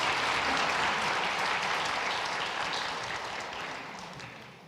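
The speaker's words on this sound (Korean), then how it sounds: "다시 한번 큰 박수로 축복하겠습니다." Steady applause from a church congregation at a Christmas Sunday worship service, full and close, slowly fading out over a few seconds.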